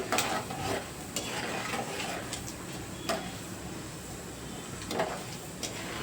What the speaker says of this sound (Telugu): ఇది ఇలా లైట్గా గోల్డెన్ బ్రౌన్ కలర్ వచ్చేంత వరకు వేయించేసుకోవాలి